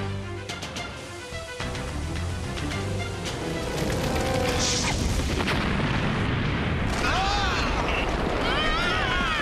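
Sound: explosion boom in an animated show

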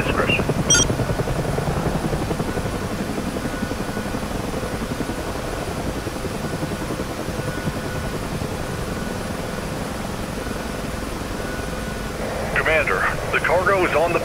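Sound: UH-1H Huey helicopter engine starting up, DCS video game

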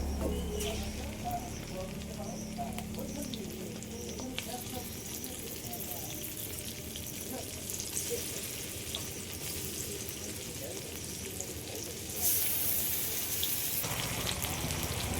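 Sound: spice-marinated fish frying in a pan

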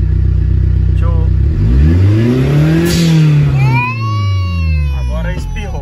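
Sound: VW Gol Turbo engine revving

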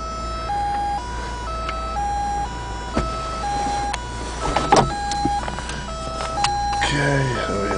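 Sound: VW Cabrio convertible power top motor operating

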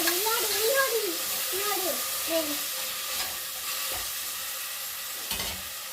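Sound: stirring tomato with ginger garlic paste frying in pan

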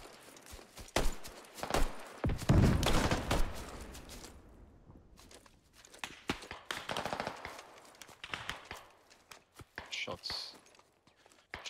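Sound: suppressing gunfire in the video game Squad

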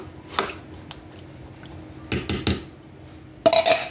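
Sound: stirring rice cooking in a pot

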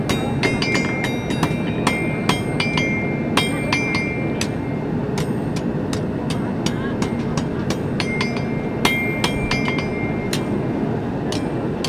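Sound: blacksmith hammering heated iron into shape

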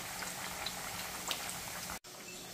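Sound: smashed green plantains frying in oil

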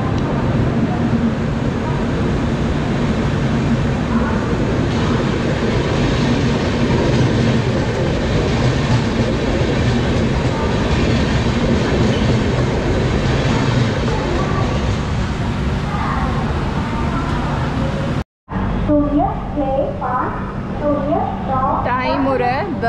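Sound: double decker AC train departing, clickety-clack on rails

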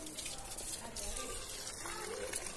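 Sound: watering summer plants in a garden

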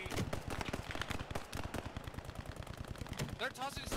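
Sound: mortar fire in Post Scriptum video game

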